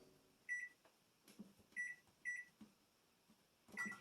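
A microwave oven heating food in a home kitchen: faint, quiet hum with several short high electronic beeps, some single and some in pairs, plus soft clicks and handling noises.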